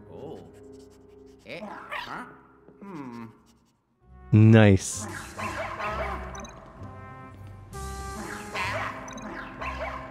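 A ghost dog in the Luigi's Mansion 3 video game yips and barks in short bursts amid busy game sounds, while a person talks over it.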